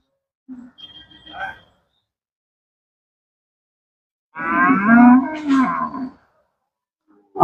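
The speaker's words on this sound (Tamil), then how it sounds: "நம்ம நாட்டு மாடு காங்கை இனத்தை சேர்ந்த நாட்டு மாடு வண்டி இருக்குதுன்னு நினைக்கிறேன்" Native Kangayam breed cattle at the Pollachi cattle market give two lowing calls separated by silence: a short one, then a longer, louder, harmonically rich call.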